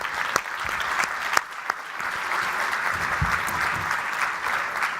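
An audience at a technology conference session applauds a panel, with steady mid-level clapping and a few sharper claps, the sound carrying on evenly from a hall crowd.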